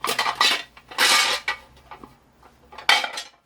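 Aluminum scrap pieces clink and rattle against each other in several bright bursts, close by, with short pauses between handlings.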